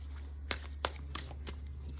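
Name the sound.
tarot cards being shuffled and drawn from deck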